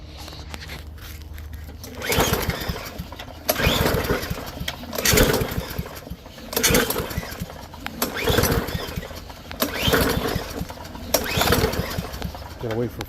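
A Yard Machines push mower with a Powermore engine is pull-started again and again, each recoil pull bringing a short loud burst of cranking at a regular rhythm while the engine fails to keep running, with someone talking between pulls.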